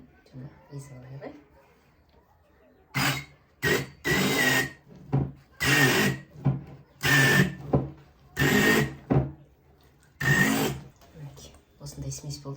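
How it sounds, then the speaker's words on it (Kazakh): A blender mashes a mixture of cottage cheese, egg, sugar and starch in a series of about eight loud, close motor bursts with short pauses between them, after a quieter stretch of faint background talk. "Осыны енді блендермен езіп алайық."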